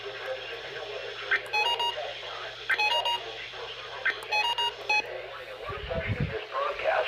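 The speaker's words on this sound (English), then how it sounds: "This broadcast, and especially the warning alarm tone, will vary at any given location." A NOAA Weather Radio weekly test plays repeated bursts of data beeps over a radio broadcast background, with faint talk underneath and a short low rumble near the end.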